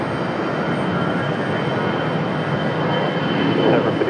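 An airliner arriving on runway 23 at Raleigh-Durham International Airport, a loud, steady broadband roar of jet engines close by, rising slightly near the end, with no talk.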